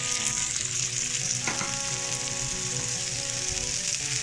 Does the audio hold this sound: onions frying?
yes